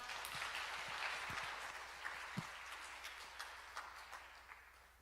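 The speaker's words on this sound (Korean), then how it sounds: "박수로 환영하겠습니다." A youth church congregation applauds to welcome a preacher, with a soft, distant wash of clapping that starts fuller and thins out, leaving a few scattered louder claps near the end.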